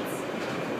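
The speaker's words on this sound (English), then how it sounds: "This train is approaching Concourse A." Airport people mover train running toward Concourse A, a steady close rumble of rolling wheels and rail clatter with no voices, brief and continuous.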